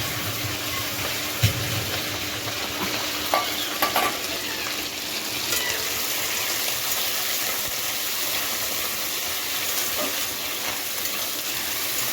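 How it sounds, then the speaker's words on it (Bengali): Crabs frying in spattering mustard oil give a steady, close, dense sizzle and crackle throughout, with a few louder pops and occasional clinks of a utensil. "প্রথমেই কাঁকড়া কটা একটু ভেজে নেবো বাবা তেলটা ছিটছে"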